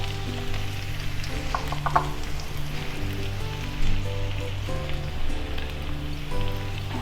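Shrimp sizzling in a pan with onion, garlic and capsicum in a home kitchen, a steady loud frying hiss with occasional stirring scrapes and clinks, no voices.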